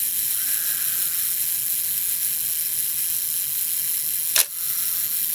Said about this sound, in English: Gets to about here, you'll activate the shutter.